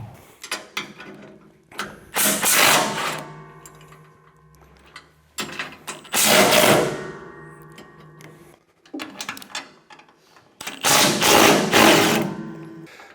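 Fasteners on a grain bin bottom auger are loosened with a ratchet wrench, coming as three bursts of rapid, close, loud metallic clicking separated by quieter pauses with light handling noise.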